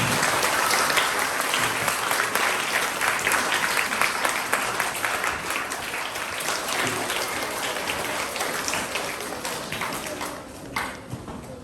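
Applause from a school presentation day crowd, many hands clapping in a dense, sustained roar that slowly thins toward the end, with a few faint voices underneath.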